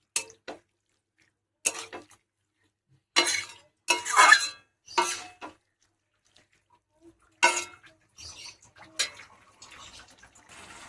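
A spoon stirring note shak curry with a fish head in a pan, giving sporadic scraping clinks and wet sloshes in short bursts separated by quiet pauses, close up with no talk.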